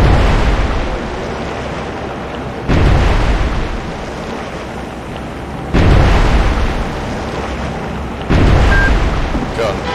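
A Sovremenny-class destroyer in Cold Waters fires P-270 Moskit missiles, heard as four loud roaring launches a few seconds apart, each decaying into a rushing wash, with a voice briefly speaking.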